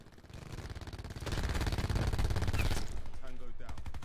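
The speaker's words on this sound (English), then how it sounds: "this hip firing on this gun sucks" Rapid hip-fired bursts from a Spitfire submachine gun in Call of Duty Black Ops 4, sustained rattling shots that grow louder midway, with a voice speaking near the end.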